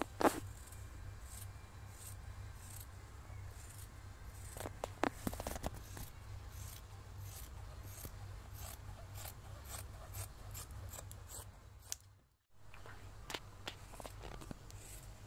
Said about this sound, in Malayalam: ഞാൻ ആദ്യം താഴെ കട്ട് ചെയ്തെടുക്കാം.